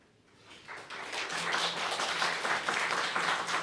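Audience applause at a Buddhist temple family service, rising from quiet into a full, sustained round of clapping from a roomful of people.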